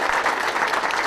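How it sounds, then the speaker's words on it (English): An audience at a governor's press conference at St. Alexius Medical Center claps in a steady, dense round of applause. It is loud and sustained through the whole short stretch, with no talking over it. "Let's give a big round of applause."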